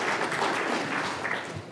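An audience applauds the speaker's wife Allison, a soft, continuous wash of clapping from a room full of people, fading slightly toward the end.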